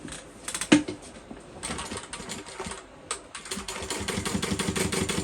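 A sewing machine runs in short bursts of rapid needle clatter as it stitches the sides of a fabric crossbody bag, close by, with brief pauses between runs and a quicker, steadier run at the end.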